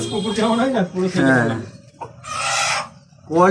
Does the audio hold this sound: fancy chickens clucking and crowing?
yes